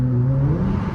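A straight-piped Nissan Altima exhaust revs inside a road tunnel, a loud, close, droning engine note that holds steady and then climbs slightly in pitch for about a second.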